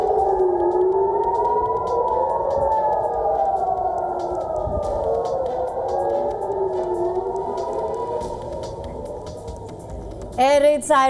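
Air raid sirens wail across Jerusalem in long, rising and falling tones that hold steady and loud throughout, with a brief burst of speech at the very end.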